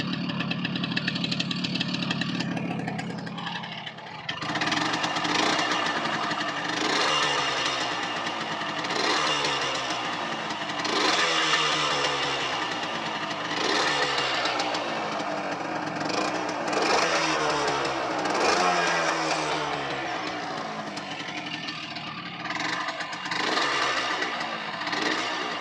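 A Yamaha TZR 125 two-stroke motorcycle engine idles fast on choke, running steadily and close with a busy, buzzing, slightly uneven rhythm for the whole stretch, no voices over it.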